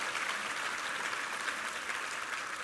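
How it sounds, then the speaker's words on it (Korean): A Korean church congregation gives sustained applause during a Sunday worship service, an even, continuous roar of many clapping hands that holds steady from start to finish. "우리 하나님께 감사와 영광의 박수 올려드리겠습니다"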